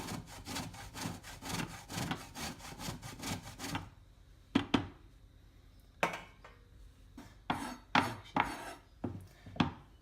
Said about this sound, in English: grate it with a grater.